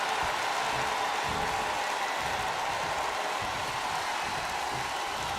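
Continuous roar of a wrestling arena crowd in WWE 2K20, a steady broadband wash of cheering with no clear peaks, running throughout.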